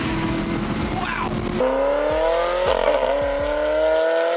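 Chevrolet Camaro ZL1 1LE with a six-speed manual accelerating hard under full throttle, engine pitch climbing in loud steady pulls broken by several quick gear shifts, with a brief exclamation from a person.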